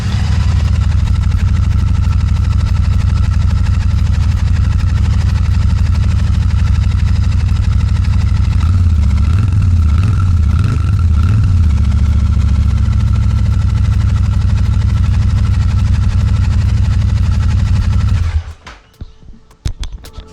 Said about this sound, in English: now we'll listen at the exhaust pipe, and I think it's a lot throatier, a lot deeper burble than what it was